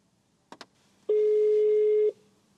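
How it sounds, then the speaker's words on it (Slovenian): A Ford Puma's eCall emergency system placing a call: two short clicks, then a single sustained telephone ringing tone of about one second, loud and clean against near silence. "An emergency call is being placed."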